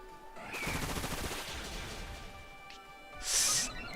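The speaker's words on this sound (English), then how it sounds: "we are, of course, going to use Bullet Seed" The Bullet Seed attack from the video game Pokémon Scarlet sounds as a rapid volley of sharp popping shots over game music, ending with a bright high burst.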